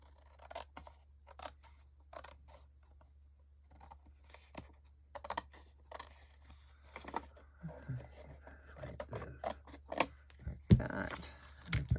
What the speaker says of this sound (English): Now we can take and trim this little piece off here.